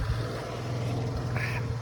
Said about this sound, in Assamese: আমাৰ ফাৰ্মৰ পৰা এইফালে 2টা হাঁহ তুলি ল'লোঁ